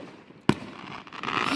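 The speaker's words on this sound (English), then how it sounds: "fireworks have started already" Fireworks going off outdoors at night: one sharp, loud bang followed by a crackling, hissing tail that swells toward the end.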